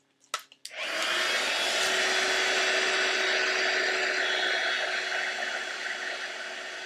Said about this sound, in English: So let me grab my heat gun.